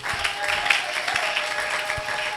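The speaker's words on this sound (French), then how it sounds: "Acclamez pour la gloire de notre Dieu." A church congregation applauds together during a French-language sermon, a steady bed of hand clapping that holds evenly throughout with no voices on top.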